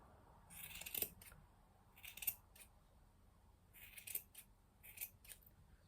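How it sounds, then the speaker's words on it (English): Quiet, crisp snips of scissors trimming wool, several short bursts spaced irregularly with brief pauses between, close and alone. "So then get yourself a good pair of scissors."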